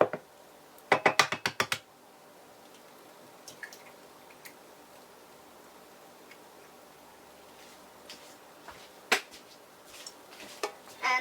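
Sugar and egg whisked in a mug for a chocolate mug cake: a quick burst of rapid clinking strokes, then quiet stretches with a few sharper taps near the end.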